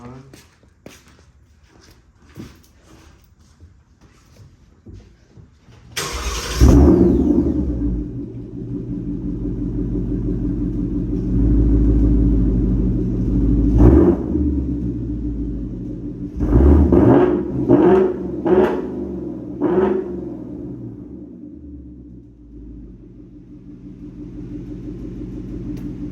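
A 2018-2023 Ford Mustang GT with a Borla S-Type catback exhaust starting up loud and close after some handling noise, then a deep rumbling idle with several sharp revs in a row, fading toward a calmer idle.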